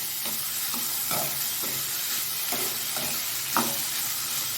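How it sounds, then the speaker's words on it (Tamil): Boiled carrots and beans are stirred in a frying pan, a constant hissing sizzle with a spatula scraping through at a regular pace, roughly every half second, close and loud with no voices. "நம்ம வேக வச்சு வச்சுருந்த கேரட் பீன்ஸை சேர்த்துக்கலாம் சேர்த்து கிண்டி விடணும்"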